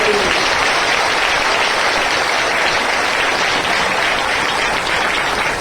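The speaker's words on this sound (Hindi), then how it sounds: "जोर से ताली बजाओ" A church congregation claps loudly and steadily at a Hindi-Bengali Christian worship service, a dense continuous wash of hands with no pauses throughout.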